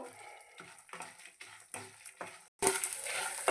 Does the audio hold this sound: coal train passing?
no